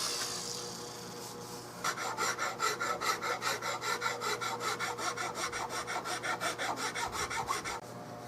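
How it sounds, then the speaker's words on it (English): Wooden stock of a Carl Stiegele 16-gauge side-by-side shotgun sanded by hand: after a quiet start, a close, steady run of rhythmic rasping strokes, about two per second, continues evenly for several seconds before stopping. "That leaves me enough there I can sand that."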